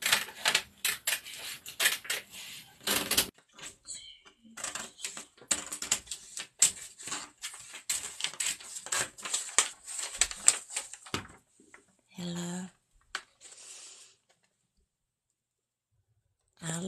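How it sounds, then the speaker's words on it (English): Scissors cutting out an Ellie and Mac paper sewing pattern: rapid rhythmic snipping and crisp paper clicks at close range, pausing and trailing off into silence near the end. "So that's what I'm doing, is I'm cutting out a pattern."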